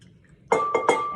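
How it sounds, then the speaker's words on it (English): A spoon stirs a sourdough bread mixture in a bowl, striking its side in three bright, ringing clinks close by after a brief quiet start. "Just stir this around a little bit."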